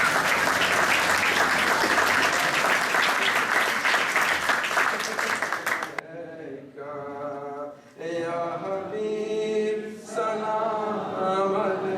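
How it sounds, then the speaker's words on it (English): Loud, dense applause from a crowd at an interfaith Milad un Nabi event fills the first half, then gives way to chanting voices singing together. "give them a loud round of applause and a loud salawat"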